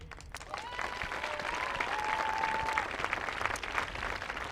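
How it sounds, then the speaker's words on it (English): Audience applause at a Forest Lake High School marching band event on an outdoor athletic field: steady, dense clapping from a crowd, held at an even level throughout, with a few whistles rising above it. "I'd like to give a big shout out and a round of applause to Forest Lake Area Schools"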